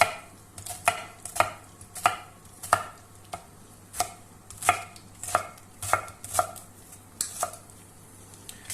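A knife chops onions on a cutting board in a home kitchen, a steady series of crisp, close taps about twice a second with no one talking.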